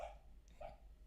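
A sleeping dog lets out two soft, muffled woofs while dreaming, quiet and close, separated by a brief pause over a low background hum.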